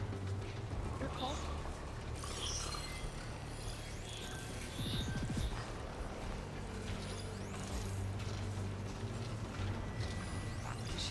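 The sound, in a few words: robot machines moving in Horizon Forbidden West video game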